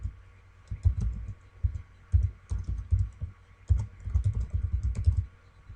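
Someone types an email address on a computer keyboard, producing close, rhythmic bursts of clacky keystrokes with deep thumps, separated by brief pauses.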